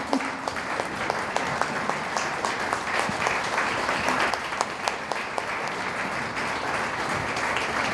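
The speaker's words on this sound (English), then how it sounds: "can we give this man a standing applause again?" A large audience at a philanthropy workshop in Colorado claps in a sustained standing ovation, dense and even throughout with no voices over it.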